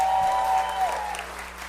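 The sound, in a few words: audience round of applause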